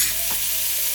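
Onion and garlic frying in a pan, a short burst of bright, steady hiss close by with no voices.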